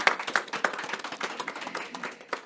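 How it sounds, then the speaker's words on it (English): Audience clapping at a project launch event on combating anti-Black racism, a short burst of scattered, fairly light hand claps, moderately near. "I think that's worth a round of applause."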